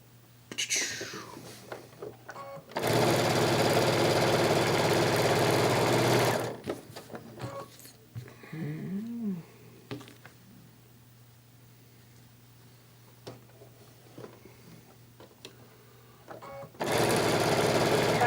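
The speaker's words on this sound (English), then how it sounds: "if we sew these all the same way" A sewing machine stitches fabric pieces with a 1/4 inch seam in two loud, steady whirring runs. Quiet speech and handling sounds come in between.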